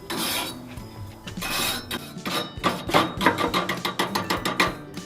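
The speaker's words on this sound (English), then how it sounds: "I like to give them a nice little brush." A brush scrubs the slots of stainless steel burners on a Weber Genesis gas grill, giving close, raspy strokes that start slow and turn into quicker rhythmic scrubbing.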